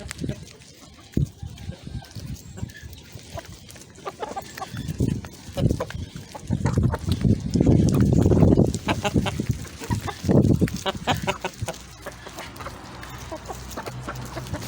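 Hens cluck and squawk close by in a backyard flock on a windy day, with intermittent bursts rising over wind noise while someone talks to the birds throughout.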